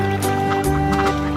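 A cartoon mother duck quacks in a children's song, with several bright quacks in a rhythmic run over steady, tonal music.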